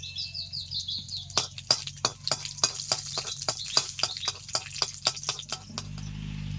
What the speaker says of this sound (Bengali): তেল গরম হয়ে গেছে দুটো শুকনো লঙ্কা দিয়ে দিলাম কালো জিরে